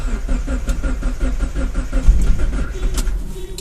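A Mazdaspeed Miata with a Hydra 2.5 setup cranks on a cold start, the starter turning the engine over in a steady rhythmic chug for several seconds without clearly catching, close and fairly loud with no talk.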